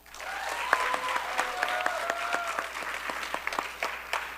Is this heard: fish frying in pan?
no